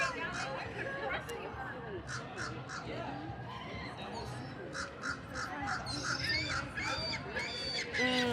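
Crows caw repeatedly outdoors at Universal Orlando during Mardi Gras, harsh calls coming in rhythmic bursts over steady crowd chatter and nearby talking.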